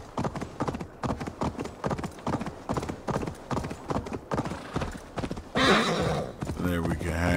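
Rhythmic horse hoof clip-clops trot steadily off-road in Assassin's Creed Valhalla, then a loud, high whinny rings out near the end, with a voice talking over the hooves.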